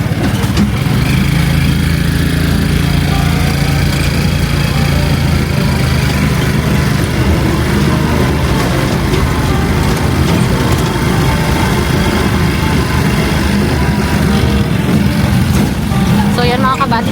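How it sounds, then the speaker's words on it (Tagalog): A motorcycle engine runs steadily with a low droning rumble throughout, loud and continuous, with voices chattering over it. "Sakay namin yung motor ni Ate Lourdes."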